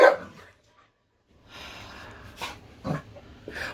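A dog's play barks and snorting growls come in short bursts after a loud opening sound and a pause, fairly close and with no talking over them.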